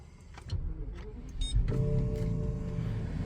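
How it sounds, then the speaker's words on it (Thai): A starter motor whirs briefly, then the V12 engine of a BMW 760Li E66 catches and settles into a low, steady idle, heard fairly close in a quiet space. "ลองสตาร์ทรถกันดูสตาร์ทรถนะครับ"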